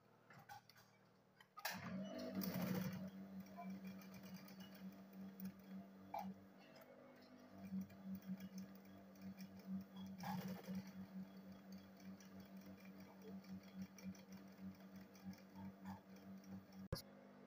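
A sewing machine stitches a handbag to its lining, a quiet, steady mechanical whir with rapid ticking that runs almost continuously after a brief start, with short louder bursts of handling noise.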